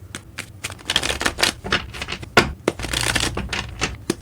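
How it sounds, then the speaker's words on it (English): Tarot cards shuffle in quick riffling bursts, close and crisp, in irregular clusters with brief pauses and no voice. "3 more shuffles and let's begin."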